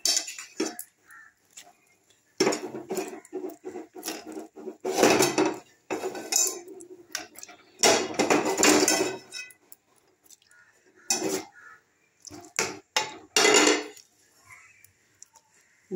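Grated coconut is added to boiled milk in a wok-style pan, with repeated clattering of a utensil against the metal pan and bursts of clinking in an otherwise quiet kitchen, no talking.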